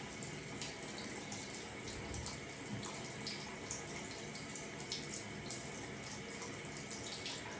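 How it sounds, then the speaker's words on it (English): Tap water runs steadily from a bathroom faucet into a sink while someone rinses off face cleanser, a continuous hissing splash lasting throughout with small irregular splashes, close and moderately loud, no talking. "Rinse this off and then I'll actually come and talk."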